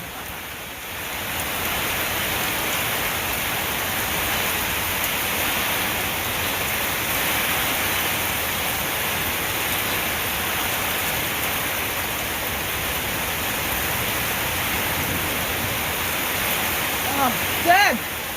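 Heavy rain pours down steadily during an Australian thunderstorm in Victoria, a dense, loud, unbroken roar of water with a brief knock near the end.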